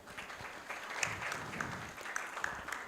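An audience at an intellectual property conference claps steadily and warmly for a speaker, a dense round of applause at moderate distance with a few sharper individual claps standing out.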